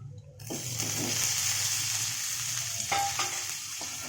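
Washed dried sala fish goes into a hot pan and fries with a steady close sizzle, broken by a few scraping stirs and light clinks; no one speaks.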